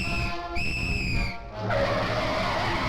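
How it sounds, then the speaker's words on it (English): A traffic cop's whistle gives two shrill, piercing blasts in quick succession, loud and close, followed by a sustained screech of car tires skidding. "You just blow that whistle"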